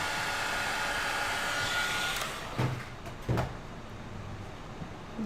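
A hair dryer blows out a white paint pour, its steady whooshing airflow fading partway through, followed by a couple of soft knocks and a lighter hiss.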